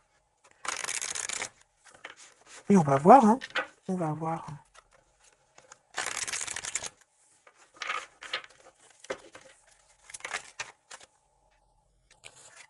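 Tarot cards being shuffled in several quick bursts of crisp riffling and flicking, close by, with someone speaking in French between the shuffles.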